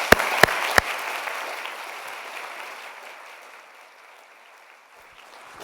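Stanford audience applause welcoming Fei Fei Li at the Stanford HAI 2019 event: a hall full of clapping opens with a few sharp claps, swells, then gradually thins and fades over several seconds, with no speech.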